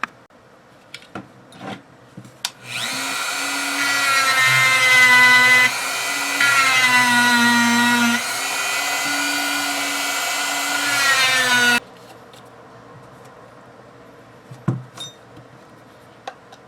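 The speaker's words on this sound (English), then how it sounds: "I'm gonna now use a Dremel and I'll make some space." A Dremel rotary tool grinds out space in an SKS rifle stock, a loud steady high-pitched whine with shifting pitch lasting about nine seconds, with faint handling clicks before and after.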